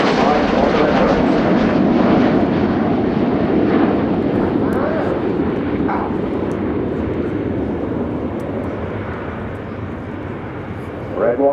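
Royal Air Force Red Arrows jets roar through a flying display at an air show, a loud sustained engine rumble that slowly fades as the formation pulls away, with a commentator talking over it.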